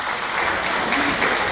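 An audience at an evening show in a circus tent in Vitrolles applauds performers, a brief, continuous, fairly loud patter of many hands without pause or voices.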